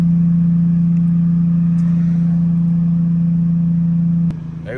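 A manual sports sedan's engine pulls steadily in second gear, a loud, close, constant mid-pitched drone that holds level for over four seconds before easing off slightly at the end.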